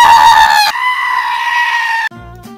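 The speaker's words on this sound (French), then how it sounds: "Et tout de suite, à l'image, le même de la chèvre." Screaming goat meme sound effect: a loud, drawn-out bleating scream that holds for about two seconds, then breaks into a short wavering tail, with no talk over it.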